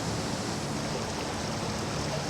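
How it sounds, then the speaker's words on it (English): A jungle waterfall on tropical Cocos Island gives a steady, dense rush of falling water, a constant broadband roar with no breaks or other sounds. "One of the many waterfalls of Kokos provided relief from the tropical heat and humidity."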